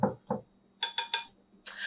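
Dry bread ingredients being mixed in a bowl for keto rosemary and onion bread, heard as a few quick clinks and scrapes of utensil against the bowl, close and fairly quiet, with brief pauses between strokes.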